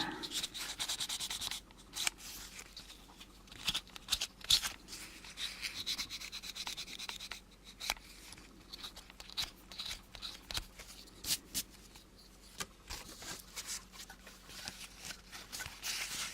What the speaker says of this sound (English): And a little fine sandpaper just around this edge.